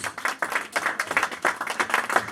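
A church congregation claps for Jesus: dense, lively applause from many hands, steady and close, filling the whole stretch with only faint voices underneath.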